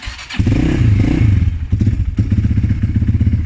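A Forte 300 motorcycle, run hard over rough roads, cranks with the choke on and its engine catches, settling into a loud, steady close-up idle with rapid firing pulses after a brief thump at the start.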